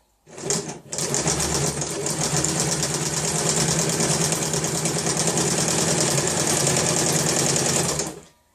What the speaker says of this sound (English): So I'm going to drive the machine now, and I'm not going to be pushing the fabric, but I'll just be guiding it.